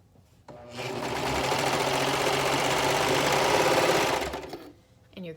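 A sewing machine stitches straight across the shoulder tops of a romper's main fabric and lining in one steady run of about four seconds. It sounds close and continuous, with a soft start and stop and no talk over it.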